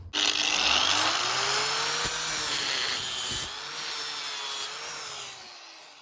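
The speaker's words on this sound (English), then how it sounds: "I'm going to pop a nut and bolt through here and then tighten it up" A power tool drives a nut and bolt tight on an underslung van fresh water tank, giving a loud, continuous whirring buzz that holds for several seconds, dips briefly, then winds down.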